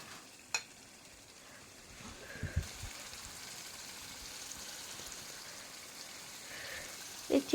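Chicken pieces fry with spices in a pan, giving a quiet, steady sizzle with a few faint clinks of a spoon against the pan.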